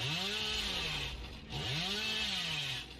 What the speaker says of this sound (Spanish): Se me queda bugueada la sierra.